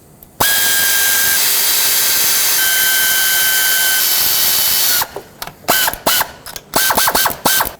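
A 1/4 inch ratchet on the throttle body bolts of a Saturn Aura: a steady mechanical whir for several seconds, then a burst of quick, close clicking pawl strokes as the bolt is snugged down.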